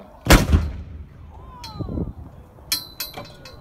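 A British 25-pounder howitzer fires once at Fort Nelson, a sharp, loud blast with a booming tail, followed by metallic clinks and clatter of the gun being handled.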